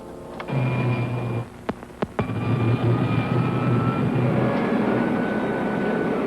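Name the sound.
rocket ship pilot jet firing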